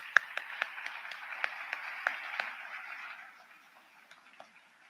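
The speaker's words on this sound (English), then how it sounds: "Let's give them one more round of applause" A small audience clapping for sponsors at an anniversary event, sharp scattered claps over a thin, filtered wash that fades out after a few seconds.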